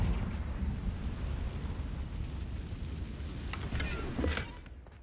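A Confringo fire spell blast in Hogwarts Legacy, heard as a loud, sustained roaring rumble with crackling bursts. A sharp flare comes near the end before it fades, with no talking.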